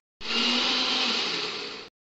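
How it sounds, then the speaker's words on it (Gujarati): A kitchen mixer grinder whirs steadily as it purees red capsicum with a little water: one continuous high-pitched motor whine that starts abruptly, holds for nearly two seconds, then cuts off. "થોડું પાણી નાખીને પીસી લઈએ."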